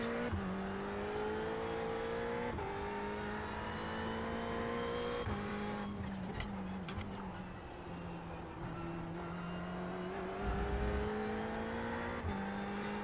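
Mazda MX-5 race car in a racing video game, engine droning steadily and rising through the gears with brief dips at shifts, a close continuous whine throughout with a short scuffing burst midway.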